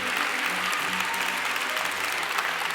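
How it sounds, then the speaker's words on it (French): Steady applause from an audience at a prize-giving ceremony for a student lawyers' pleading contest, a dense, even patter of many hands clapping throughout with no talk on top. "On peut l'applaudir beaucoup."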